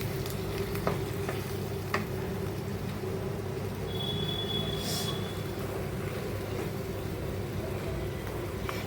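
Vegetables sauté in a kadai with a steady, dense sizzle and low rumble, a few sharp scrapes and ticks of a spoon against the metal scattered through the constant frying hiss.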